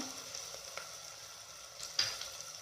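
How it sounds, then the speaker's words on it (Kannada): Ginger garlic paste frying in a pan for a simple chicken biryani, a soft steady sizzle with a few light stirring scrapes, quiet and close with no talking. "ಅದು ಸ್ವಲ್ಪ ಫ್ರೈ ಮಾಡ್ತೀನಿ. ಸ್ವಲ್ಪ ಹಸಿ ವಾಸನೆ ಹೋಗಬೇಕು."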